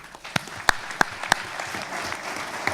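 Crowd applause at a boxing press conference, a steady wash of clapping with a few sharp, louder claps standing out near the front.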